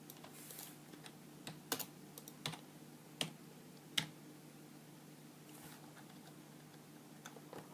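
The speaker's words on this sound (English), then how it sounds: "Use the arrow keys if you want." Computer keyboard arrow keys tapped in a handful of sharp, irregular clicks over a quiet room hum, close by and alone, while adjusting a car wheel image in Photoshop.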